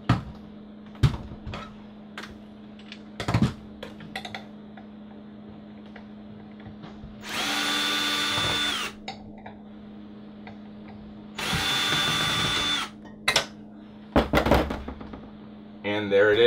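Power drill driving out RV valance bracket screws, with two short steady whirring bursts of about a second each separated by clicks, knocks and handling noises, with talk in between.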